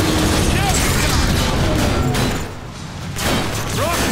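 Rocket fire and explosions from the Transformers: War for Cybertron game: dense bursts of booming blasts and crackling impacts that ease briefly, then surge again amid chaotic battle noise.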